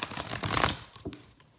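Playing cards shuffled by hand during a tarot-style reading, a close riffle of dense papery bursts that peaks then fades, with a few softer flicks at the end.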